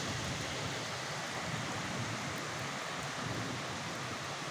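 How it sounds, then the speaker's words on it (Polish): Warm summer rain falls steadily on a shelter roof and yard, a dense, even hiss of drops without any let-up. "Śniadanko pod wiatą i letni deszcz."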